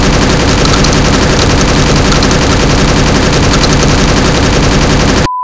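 A modified shotgun in Counter-Strike fires in a loud, continuous rapid-fire burst for over five seconds before cutting off abruptly.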